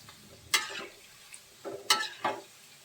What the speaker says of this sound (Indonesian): Nah ini aku goreng dulu tempenya.